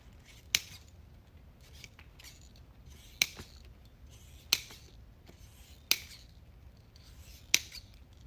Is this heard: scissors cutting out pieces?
yes